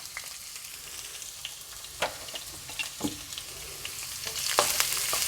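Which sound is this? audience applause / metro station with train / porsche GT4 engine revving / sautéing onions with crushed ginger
sautéing onions with crushed ginger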